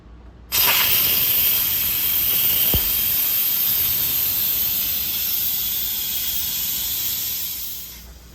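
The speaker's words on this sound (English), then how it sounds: "we're gonna do a quick release" Steam blasting from an Instant Pot on quick release after cooking turkey chili, a sudden loud steady hiss that holds for several seconds, then tapers off toward the end.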